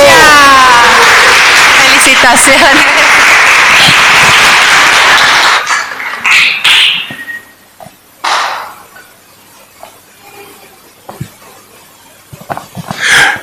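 A church congregation applauds loudly during a Sunday service, the dense clapping running for about five seconds before cutting off, after which a speaker talks amid scattered room noise and a few isolated claps.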